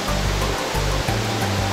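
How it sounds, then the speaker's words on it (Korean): A large artificial waterfall channelled through a cut in the rock walls of a Zhangjiajie canyon roars as a steady, dense rush of falling water, with a low rumbling thud that pulses irregularly underneath. "커다란 폭포가 장관을 이루고 있는데요. 암벽 사이에 수로를 뚫어 만든 인공 폭포입니다."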